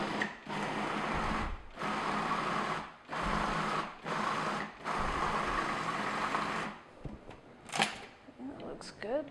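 A food processor whirs as it blends ricotta cheese and granulated white sugar for a cheesecake, running in several bursts of a few seconds each with short pauses between, followed by lighter clatter near the end.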